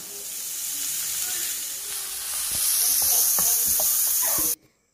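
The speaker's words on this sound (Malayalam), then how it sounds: "നമുക്ക് ഉള്ളി ഇടാം." Onions drop into hot oil in a pan, sending up a loud hiss that swells partway through as the sizzle intensifies, then cuts off abruptly near the end, heard up close without speech.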